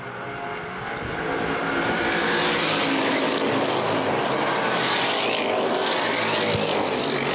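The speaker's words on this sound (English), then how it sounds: "Hopkins racing with Myers for the race lead." Loud, sustained roar of street stock cars racing on the oval at Winchester Speedway, building at the start and holding steady with a continuous throaty drone.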